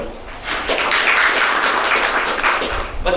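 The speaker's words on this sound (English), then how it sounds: "So let's clap for them." Applause rises from the audience at an agriculture trade event on Ugandan exports to Europe, a dense, fairly loud wash of clapping that fills the room for a few seconds.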